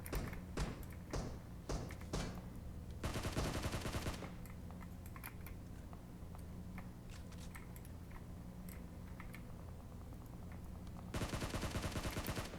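Bursts of rapid automatic gunfire from PUBG Mobile, a battle royale shooter, ring out in clustered volleys with scattered single shots between them, loud and close at the start and end with quieter exchanges in the middle.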